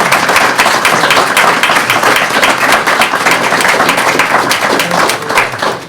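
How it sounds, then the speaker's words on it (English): A candidate forum audience for a town council race breaks into dense, loud applause, many hands clapping continuously for several seconds before tapering slightly. "Would you join me in giving all 5 candidates a round of applause?"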